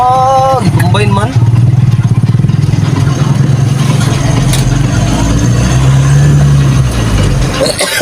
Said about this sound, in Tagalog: Grabe motor ni uncle oh